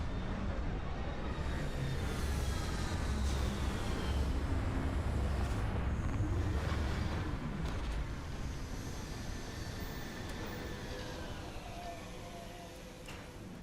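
A spaceship landing in Starfield, a broad roaring engine rumble with sweeping whines that holds steady and gradually fades over about fourteen seconds, loud and close.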